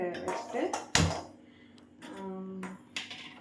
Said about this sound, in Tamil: இப்போ கடாயை வச்சுட்டு